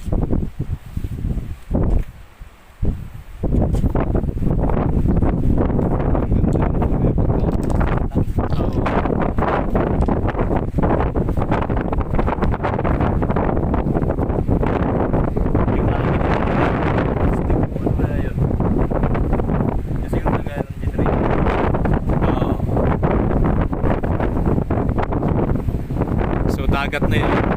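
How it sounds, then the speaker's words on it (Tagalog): Strong wind roars at a high building on an island, steady and loud, buffeting the microphone almost without pause for the whole stretch after a brief quieter start. "Medyo mahangin nandito."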